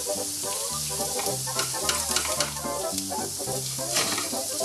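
Potatoes for a salmon hash sizzle and crackle steadily in a frying pan, a close, even hiss under a repeating musical backing with no talk.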